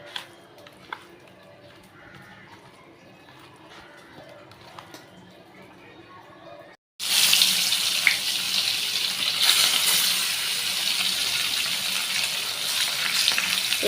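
Pieces of rohu fish fry in a pan, starting with faint background noises, then bursting into a loud, steady sizzle halfway through that stays constant to the end.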